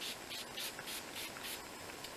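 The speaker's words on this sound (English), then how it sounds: "I'm just going to go in with that setting spray again" A faint, steady spray of makeup setting spray misting over a made-up face, a soft continuous hiss with slight pulsing bursts and no voices.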